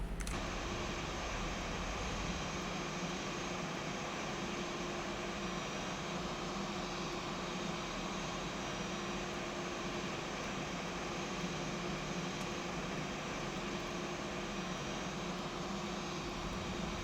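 Airbus A320 jet engine running in the X-Plane 12 flight simulator, a constant loud whine and roar with a steady tone, holding unchanged and unbroken throughout with no voices.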